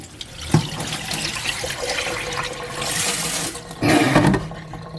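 Rinse water pours off sushi rice being washed in a kitchen, a loud, continuous splashing rush that swells twice, with no talk over it.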